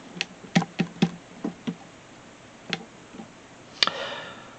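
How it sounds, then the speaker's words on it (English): A Metal Earth metal model kit gives sharp creaks and small clicks as its thin metal parts are handled, about a dozen brief, irregular taps and snaps heard close up and alone. "you're going to hear some creaking and groaning"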